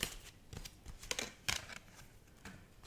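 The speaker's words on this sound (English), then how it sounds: "It's picking up the shuffling." Soft papery riffling and snapping as a deck of tarot cards is shuffled nearby, several quick bursts at a quiet level.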